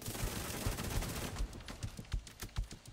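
Automatic gunfire in The Division 2 video game, with rapid evenly spaced shots that form a continuous burst and then thin into separate punchy reports, moderately close.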